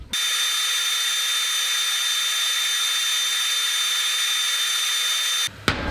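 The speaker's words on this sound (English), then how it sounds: "and I'm gonna go ahead and weld this up." A steady, even electric hiss and buzz runs nonstop as a metal plate is welded in a home workshop, then cuts off abruptly near the end, followed by a brief clatter.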